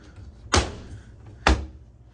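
Sliding closet doors with shelves in a hotel room run along their track, giving two distinct knocking thuds about a second apart over a quiet room hum.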